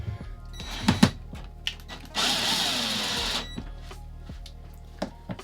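A steady mechanical whir runs for about a second and a half between scattered clicks and handling knocks, a drill on a low setting briefly driving a screw into an RV air conditioner.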